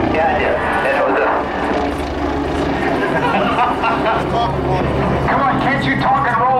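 A helicopter performing aerobatic rolls and maneuvers, its rotor and engine droning loud and steady throughout, with chatter and voices mixed in over the continuous noise.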